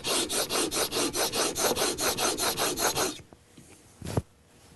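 A plane iron's bevel is worked on a double bevel sharpening system in a quick, even run of about fourteen rasping back-and-forth strokes, followed by a pause and a single dull knock.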